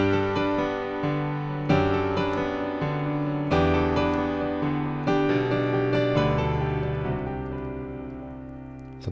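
Solo piano plays the main riff of a song, with repeated chords and a steady left-hand bass pattern that continues evenly and close throughout, with no talking.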